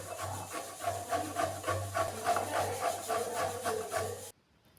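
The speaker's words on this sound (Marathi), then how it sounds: "आता मुळा किसून घेते." Radish is grated by hand in a home kitchen in a run of quick, even scraping strokes, close and fairly quiet, until the rasping stops abruptly just before the end.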